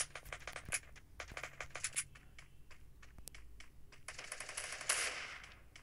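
Rapid bursts of automatic gunfire in the shooting game Garena Free Fire, sharp repeated shots in clusters with quieter gaps and a denser crackling stretch near the end, no talk.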